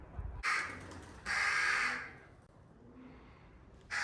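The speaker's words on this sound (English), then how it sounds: "The sound of the Crow family in castles, deserted, empty shells of castles, is so evocative." Crows cawing inside the deserted ruined shell of a medieval castle, several loud harsh caws in separate bursts, echoing close by with quiet pauses between.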